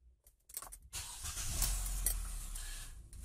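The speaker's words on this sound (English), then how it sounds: "So let me turn on the vehicle, and we'll do a bit of testing." A car engine is started: a few faint clicks of the starter, then the engine catches and settles into a steady low idle hum, fairly quiet and close.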